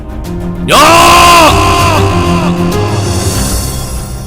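A man lets out a loud, angry scream that rises suddenly, holds for about a second, then trails off into a fading, strained groan.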